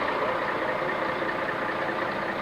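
A car drives into the Lillehammer Olympic arena area, its engine humming in a steady, fairly loud drone heard from inside the vehicle, with no talk.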